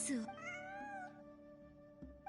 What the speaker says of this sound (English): 本当に猫がいる。